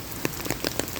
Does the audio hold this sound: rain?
yes